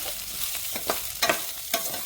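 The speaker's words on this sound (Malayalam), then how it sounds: "1 മിനിറ്റ് നല്ലതുപോലെ ഒന്ന് വഴറ്റാം." Rice and onion sauté in ghee inside a pressure cooker pot, a continuous close sizzle with a few sharp spoon scrapes against the metal.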